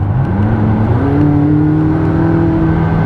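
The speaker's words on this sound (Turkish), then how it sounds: "Aracı bu kısımda biraz hızlandırmak istiyorum spor modunda." A McLaren 570S engine, 562 horsepower, revs up steadily in sport mode, its pitch climbing and then holding, loud and close throughout with no talking.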